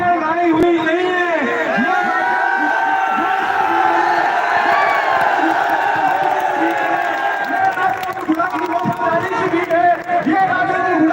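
A large political rally crowd roars and cheers continuously, a dense wash of many voices with whoops and shouts, while a loud voice speaks over it throughout.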